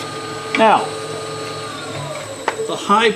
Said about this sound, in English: the high-pitched sound you heard is this rim vibrating against that tool.